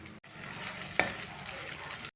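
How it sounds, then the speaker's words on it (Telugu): Onions fry in oil in a pan for a hotel-style mutton fry, a soft continuous sizzle with one sharp clink of a utensil midway. "ఆనియన్స్ని యాడ్ చేసి బాగా బ్రౌన్ కలర్ ఫ్రై చేసుకుందాం"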